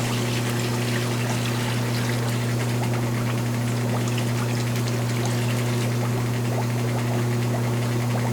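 Warm water flushing through an SLX400E/SLX500 machine, a continuous trickling flow over a loud steady motor hum, constant throughout with no voices.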